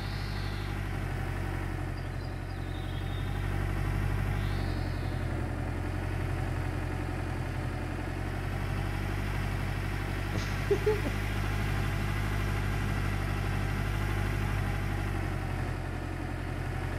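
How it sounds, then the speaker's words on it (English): A dump truck engine idles steadily in Gold Rush The Game, a constant low rumble held at even loudness throughout, with only a faint brief tick partway through. "let's go ahead and get our dump truck over there"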